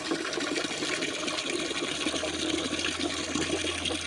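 Water pours and gushes steadily for a few seconds, a full, splashing flow close by, with a low hum joining partway through.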